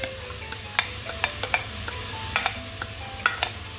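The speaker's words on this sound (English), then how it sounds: "It's a hot pot and you can hear the sizzle." Grated beetroot sizzling in a hot pot, a soft continuous frying hiss punctuated by sharp clicks and scrapes of stirring at irregular intervals, close and moderately quiet, with no talking.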